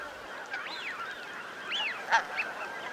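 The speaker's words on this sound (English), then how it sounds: "It's not only geese which frequent these grassy shorelines." Geese on a grassy shoreline give a few honking calls, moderately close, with a sharper cry near the end over a steady outdoor background.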